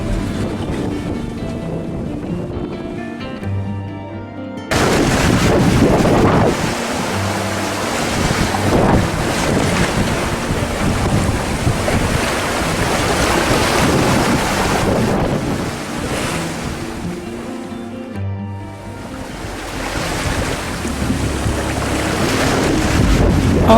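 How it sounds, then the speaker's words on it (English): A sailboat pitches through two to three meter swells driven by very strong winds, with a continuous loud roar of wind buffeting the microphone, rushing water and crashing surf all around, and no voices. "those are 2 meter swells, and they're under a lot of pressure from very strong winds"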